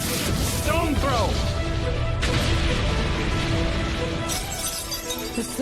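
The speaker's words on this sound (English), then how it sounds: "The silver crosses are shattering." Silver crosses shattering in an anime fight scene: a loud burst of breaking, crashing glassy debris amid dense action effects and music, with a voice briefly audible over the din.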